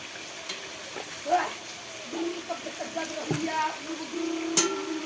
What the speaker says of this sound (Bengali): চিকেনটা আমি এখন নাড়াচাড়া করবো নুন হলুদ দিয়ে